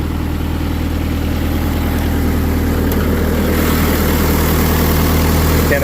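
A Kubota diesel engine swapped into a Willys Jeep idles steadily and close by, on hollow motor mounts with a mechanical fan. It gives an even low rumble with a fine mechanical clatter that holds unchanged throughout, with no voices.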